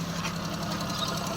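A car engine idling after start-up, a close, steady mechanical hum with a faint rhythmic ticking throughout, no voices.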